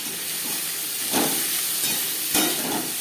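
Chopped onion and tomato hit hot oil in a wok already used for frying fish, giving a steady loud hiss and sizzle that swells twice as the pieces are stirred.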